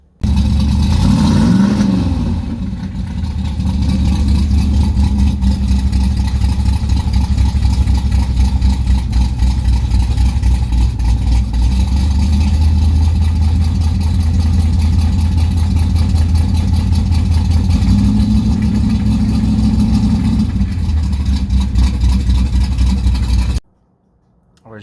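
A 1969 Corvette engine runs steadily at close range, a deep low rumble with a brief rev near the start and another swell of revs later, ending abruptly.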